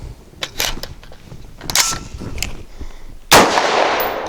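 Amend 2 polymer magazine in a rifle, with sharp close metallic clicks and clacks as the action locks back, then a loud clattering impact as the magazine drops free.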